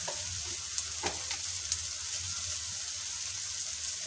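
Chicken patty filling sautéing with turmeric in a pan, a steady close sizzle with a few faint clinks and stirring scrapes over the frying.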